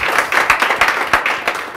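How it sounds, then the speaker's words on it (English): Indoor applause from an audience at a startup event, dense rapid clapping that holds steady and fairly loud throughout the short stretch, with no talking over it. "So give him another round of applause."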